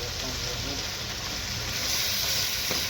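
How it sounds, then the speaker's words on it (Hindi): Yogurt hits a pan of frying gravy for potato cutlets and is stirred with a spoon, giving a continuous loud sizzle and hiss with faint scraping underneath. "चम्मच को हमने बिल्कुल हिलाते रहना है, दही शामिल करके बिल्कुल नहीं छोड़ना"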